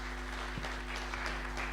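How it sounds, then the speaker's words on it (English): Faint applause from an audience at an indigenous seeds and food culture harvest fair, a soft, steady patter of clapping over a low background hum. "Give her a round of applause"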